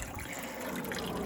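A small pump fed from a rain barrel pushes water into garden plants, giving a steady, faint trickling and gurgling wash of liquid that runs without pause over the short stretch.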